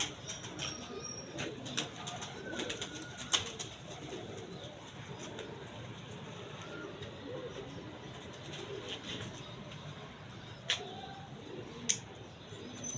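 Pigeons coo faintly in the background, low soft calls under steady ambient noise, with a few sharp clicks and flutters scattered through.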